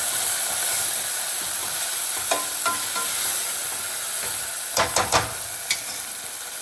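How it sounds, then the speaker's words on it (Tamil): Tomatoes and onions sauté with salt and turmeric in a pan, giving a constant close hiss of sizzling, broken by a few light clinks and scrapes of a stirring spoon near the end. "2 வதக்கி கொடுத்துடலாம்"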